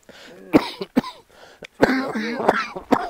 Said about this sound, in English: Coughing cough.